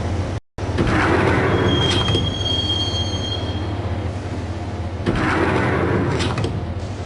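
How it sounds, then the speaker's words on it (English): A subway train in the Max Payne video game rumbles steadily along the track, with a brief squeal of the wheels and a short gap near the start, heard without any talk. "the train doors had already shut behind me, and I was in for the ride"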